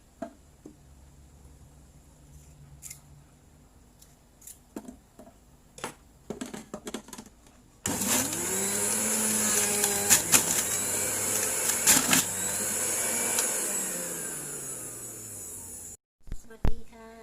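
A kitchen blender blending carrot juice runs in a loud, steady whir for several seconds, starting abruptly after quiet clicks and handling noises, then cutting off.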